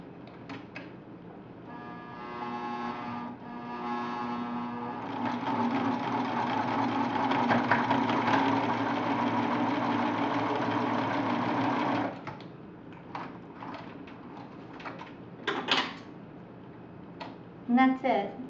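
A sewing machine stitches a fabric necklace in a steady, fast mechanical whir for several seconds, starting and stopping in short bursts, close and fairly quiet, followed by a few light clicks and handling sounds.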